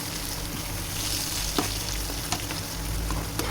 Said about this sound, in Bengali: এই শুটকিটাকে ভালো করে এই তেলের সাথে নেড়ে চেড়ে একদম মিশিয়ে নিতে হবে।